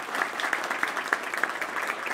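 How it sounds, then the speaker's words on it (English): An audience at a Colorado workforce announcement applauds state legislators, a steady patter of clapping with a few sharp, distinct claps throughout. "Let's give them a round of applause"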